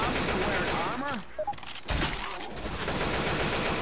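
Gunfire in the co-op zombie shooter Left 4 Dead 2 on a Titanic mod map, rapid bursts of shots crackling continuously, briefly broken by a voice and game sounds before the dense firing resumes.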